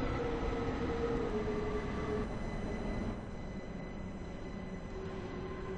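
A Roblox train in Stepford County Railway running near Stepford Airport Parkway gives a steady, moderately loud mechanical rumble and hum with faint tonal whine, continuous throughout with no talk.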